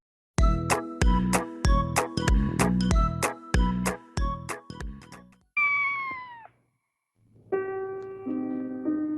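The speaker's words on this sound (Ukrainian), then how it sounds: "Здається, хтось плаче. Ой, та це ж котик." A rhythmic tinkling jingle plays, then a cat meows twice, clear and close, with drawn-out, falling cries.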